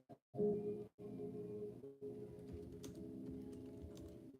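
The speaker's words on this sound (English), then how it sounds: "Typing it in on a computer." Typing on a computer keyboard, a run of soft irregular key clicks with brief pauses, quiet and close, with no voices.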